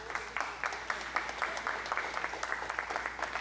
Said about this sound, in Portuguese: Pode aplaudir aí.